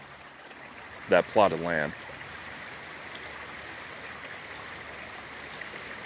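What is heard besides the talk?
creek water flowing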